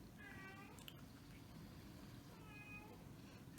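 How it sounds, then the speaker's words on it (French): A pet cat meows twice, a drawn-out cry near the start and another a couple of seconds later, faint over a low room hum during a scrapbooking session. "Vous attendez certainement mon petit chat qui miaule"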